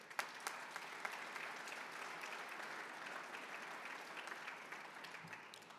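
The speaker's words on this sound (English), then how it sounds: "Please give yourselves a round of applause for the support that you've given." An audience at an awards banquet applauds, a steady patter of many hands clapping at moderate distance for several seconds with no voices over it.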